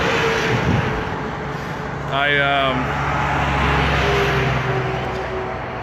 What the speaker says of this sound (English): These big trucks are about to go past me and probably make it hard to hear me